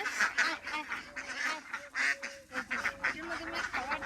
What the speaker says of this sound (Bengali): এই যে দেখো আমাদের হাঁস,